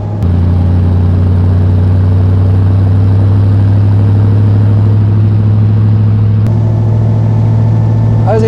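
A 1934 Mercedes 380 Cabriolet C with a supercharged eight-cylinder engine cruises in overdrive, its loud, steady low engine drone running continuously close up with a brief shift in tone near the end.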